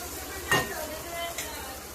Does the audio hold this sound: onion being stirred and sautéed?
yes